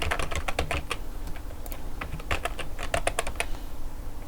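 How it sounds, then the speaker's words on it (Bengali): Rapid keystrokes come in uneven bursts on a computer keyboard, close and clear over a low steady hum, with no talking. "লাস্টে এসে আমরা একটা কিছু টাইপ করতে পারি"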